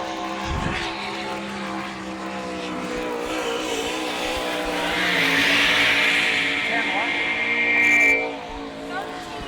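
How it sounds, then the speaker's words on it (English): Sprint car engine roaring around a Pennsylvania speedway during an All Star Circuit of Champions event, a loud sustained snarl that swells as the car passes close, with an announcer talking over it. "on the Speedway now from Katanning, PA, in car number 9"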